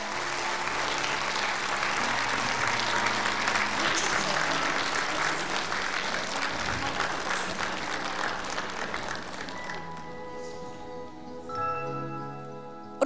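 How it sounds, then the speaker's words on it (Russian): Ovation from an audience at a charity concert in support of disabled children, with loud sustained clapping for about ten seconds that then thins out and fades as tonal sound rises at the end. "Искупайте в овациях наших героев"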